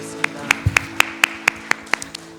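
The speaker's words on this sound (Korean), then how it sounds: "주님께 감사와 영광의 박수 올려드리겠습니다." A church congregation claps in unison during a Sunday worship service, about nine crisp, evenly spaced beats in a steady rhythm over a sustained organ or keyboard tone.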